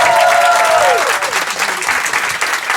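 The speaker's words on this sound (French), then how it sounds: "Vous pouvez l'applaudir." Studio audience applauds a singer after a radio interview, a dense, steady burst of clapping heard up close with a raised voice trailing off at the start.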